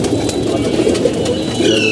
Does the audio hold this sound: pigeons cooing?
yes